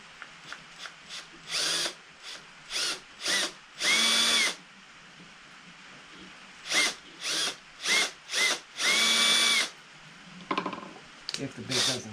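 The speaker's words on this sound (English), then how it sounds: "drill the holes" A power drill bores small holes in plastic for a knife sheath, running in a series of short, close bursts of whirring with pauses between, two longer runs among them.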